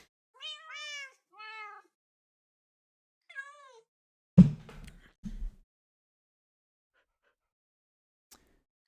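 Cats meow in a farming video game, with two harmonic meows close together, a third shorter one, then a couple of knock-like thuds and a faint tick near the end, no talking.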